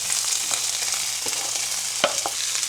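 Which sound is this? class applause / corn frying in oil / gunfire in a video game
corn frying in oil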